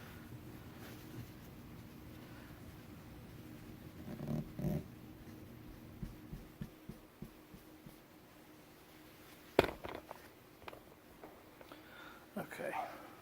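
A dog moves about close by indoors, giving a few soft snorts and low growly huffs during quiet handling noises and small clicks while someone works at a table on a gold-testing job.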